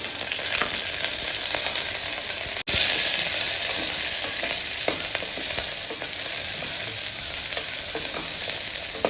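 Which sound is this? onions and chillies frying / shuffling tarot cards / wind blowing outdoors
onions and chillies frying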